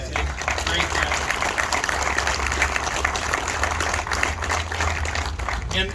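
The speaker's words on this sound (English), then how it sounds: "These artists, I think, deserve another round of applause." An outdoor audience at a park grand opening gives artists a sustained round of clapping, a dense, even patter lasting the whole stretch over a low hum, with some voices mixed in.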